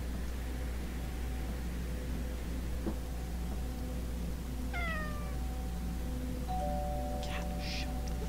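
Inside the horror video game Fears To Fathom, a cat meows a couple of times over a steady low hum. The meows are short and fairly close, followed by a brief higher chirp near the end.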